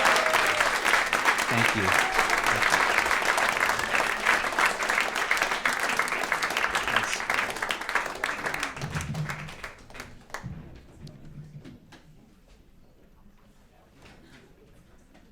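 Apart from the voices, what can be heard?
audience applause for the Long Island Vegetable Orchestra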